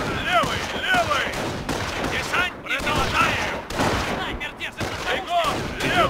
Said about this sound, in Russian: Стрельбу не прекращать. Огонь!